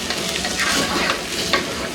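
Onion masala frying in a pan with tomato puree, a continuous sizzle under close, scraping stirring strokes, no talking.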